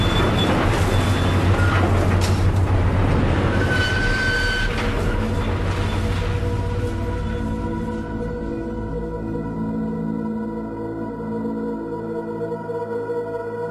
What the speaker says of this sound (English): that's the sound of a crushed automobile being shredded into a million pieces.